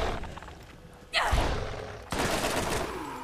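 A powerful gun fires in the video game Borderlands with two sharp, loud bursts about a second apart. Each blast rings out into a sustained noisy tail.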